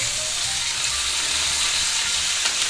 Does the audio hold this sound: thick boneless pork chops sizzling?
yes